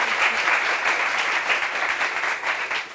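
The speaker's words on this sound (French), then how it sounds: "Applaudissements pour elle, s'il vous plaît." Studio audience applause on the set of a French television talk show: a dense, steady wash of many hands clapping that fills the whole stretch, fairly loud and close, with no speech over it.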